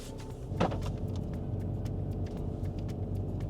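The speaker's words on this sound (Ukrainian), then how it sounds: "Я зараз виїжджаю просто з двору на дорогу" Steady engine rumble of a Skoda Superb III pulling out of a courtyard onto a residential street, a brief louder swell early on, then an even low drone with faint ticks.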